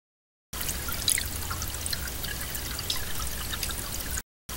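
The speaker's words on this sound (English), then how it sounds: "that was literally just the sound of water" Steady water pouring and trickling, a continuous close splashing flow with no voices, cutting off abruptly near the end.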